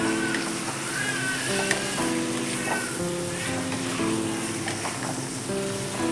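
Tomatoes and ginger sizzle steadily in a hot pan, a dense, even frying hiss close by with faint stirring clinks and no talk over it.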